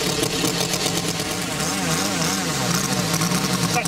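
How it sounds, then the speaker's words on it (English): A small glow-fuel engine on a Ki-43 Oscar model airplane runs steadily at close range, giving a loud, continuous buzzing drone that wavers slightly in pitch with no talk over it. "I got so carried away starting the engine, I put the air in it."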